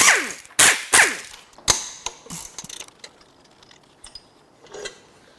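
Ratchet wrench working on the down pipe of a Jeep/Dodge 3.0 EcoDiesel engine: a few loud, sharp clicking bursts up close, then quieter scattered clicks and taps, with no talking.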